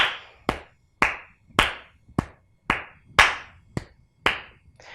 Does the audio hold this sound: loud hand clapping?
yes